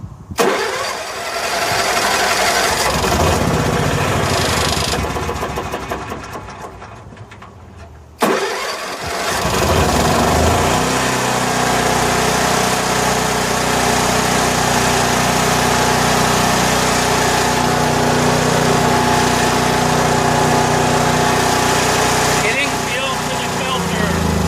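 A Honda RV generator engine cranks and runs at a steady mid-pitched drone. It falters once, then restarts and keeps running loud and close for the rest of the clip.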